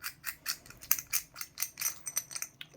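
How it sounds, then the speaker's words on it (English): A nut on a traditional hole saw drill bit is being undone, making a quick run of sharp, close metallic clicks in an even, ratchet-like rhythm with no speech. "in which case you have to undo this nut"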